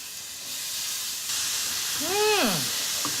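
Pineapple coated in coconut sugar and cinnamon dropped into a hot fry pan, giving a steady steam-like hiss that swells briefly partway through.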